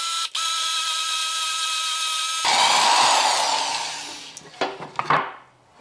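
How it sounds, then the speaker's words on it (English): A drill bores through scrap wood with a 3/4-inch Forstner bit, a steady motor whine that deepens into a rougher cutting grind, then trails off in short bursts and knocks. "We're going to be using a 3/4-inch forstner bit to cut that hole, to drill out that hole."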